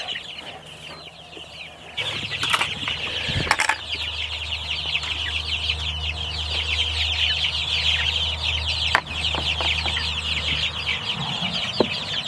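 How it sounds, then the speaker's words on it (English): A dense chorus of chicks and ducklings peeps continuously on fresh grass beside a chicken tractor, close and lively, over a low steady hum. "The chicks and the ducklings are doing awesome."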